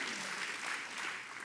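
Brief burst of audience clapping during a talk on brighter climate futures, a soft, fairly distant wash of hands that stays level before easing slightly at the end.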